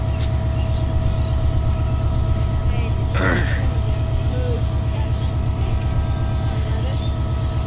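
Kurigram Express leaving Parbatipur behind locomotive 3025, a loud steady diesel rumble with rhythmic throbbing close by, a brief horn-like burst midway and a voice talking over it.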